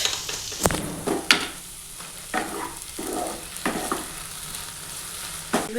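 Cucumber sizzles steadily in a hot pan while a utensil scrapes and stirs in several sharp, irregular strokes, close up.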